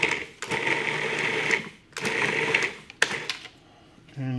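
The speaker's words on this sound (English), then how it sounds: "let's gonna process this about 20 seconds and then scrape down the sides of the bowl" A food processor blends keto monkey bread ingredients in its bowl, whirring in two bursts of roughly a second and a half each, separated by short pauses, followed by a brief clatter.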